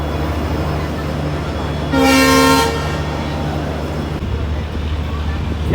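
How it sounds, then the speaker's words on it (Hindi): The Katihar–Siliguri Intercity Express departing Khawaspur sounds a loud horn blast lasting under a second amid a steady rumble of train noise. "चलिए तो अपनी खवसपुर से निकल चुकी है अपनी ट्रेन इंटरसिटी एक्सप्रेस"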